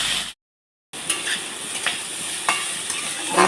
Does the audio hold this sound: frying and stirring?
yes